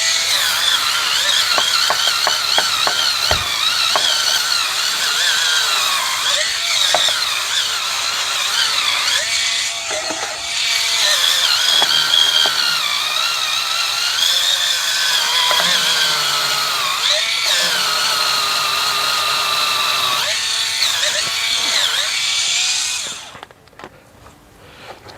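A cordless electric spin scrubber whirs steadily at close range while scrubbing brake dust off a vehicle, a loud continuous motor buzz with shifting pitch as the brush presses, cutting off near the end.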